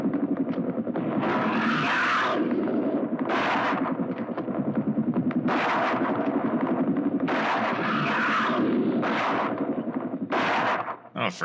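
Gunshots fired at a giant leech in a 1959 creature film crack out in loud, repeated bursts close by, with a sustained noisy roar between shots.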